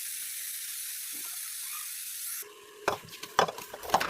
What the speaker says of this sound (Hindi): अब कुकर खोलते हैं और उसमें डालते हैं गोश्त